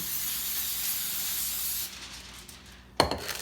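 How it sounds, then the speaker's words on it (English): Cooking spray hissing steadily onto aluminium foil for about two seconds, then stopping, followed by a brief rustle close by. "you just take your cooking spray and spray down the foil top"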